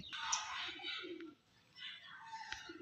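Pigeons in a hobbyist's loft in Bagnan softly coo and chirp, quiet and a little distant, in two loose bursts with a brief lull between.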